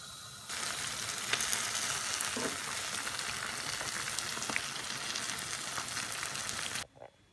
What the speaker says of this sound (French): Là, je fais chauffer l'huile et on va frire nos beignets.